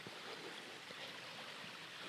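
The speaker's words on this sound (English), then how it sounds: "There's a creek right here." A clear creek flows steadily beside the Natchez Trace Parkway, a soft continuous rush of water heard faintly with no voices.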